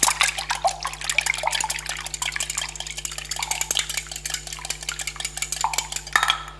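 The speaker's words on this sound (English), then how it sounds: "and just whisk it in." Milk is whisked into a wholemeal cinnamon scone mixture in a bowl, a quick run of light metallic clinks and scrapes against the bowl over a faint steady hum, with no talking.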